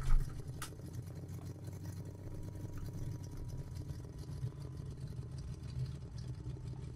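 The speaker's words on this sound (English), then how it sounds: "you can probably hear that the engine sound is really, really nice" Dorand AR1 biplane engine in Microsoft Flight Simulator, a steady low droning hum at moderate level with a brief bump at the start.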